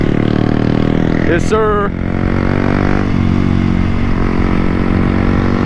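A Grom motorcycle engine revving loud and close, a steady throaty drone with a brief rising rev partway through, while a voice speaks briefly over it.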